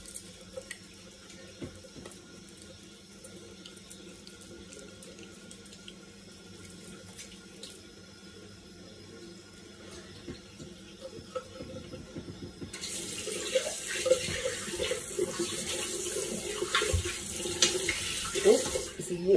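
Tap water runs into a sink during handwashing, a soft steady trickle that turns into a louder, brighter splashing gush partway through as the flow strikes hands and basin.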